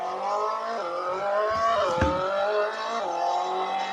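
An engine drones steadily with rising and falling revs as a car drives and drifts in the Extreme Car Driving Simulator video game, with a short tire screech near the middle.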